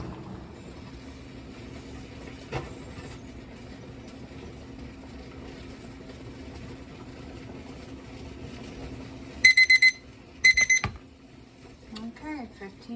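A kitchen timer beeps in two quick bursts of rapid high-pitched chirps after a long steady hum in a kitchen where pineapple chunks are being canned, followed by a brief clatter and faint voice.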